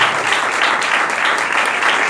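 A church congregation applauding loudly at a leadership conference, a dense, steady burst of clapping from many hands filling the whole stretch, with no talk.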